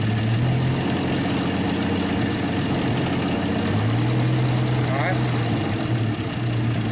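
A 1951 Studebaker engine idles steadily, then its revs rise partway through during a generator charging test. The engine sits close by under a steady mechanical drone.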